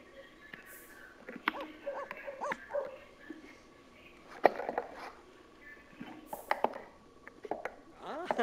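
Dogs in The Sims 4 give a string of short barks, yips and whimpers from the game's animals, coming in scattered bursts over faint background game sounds.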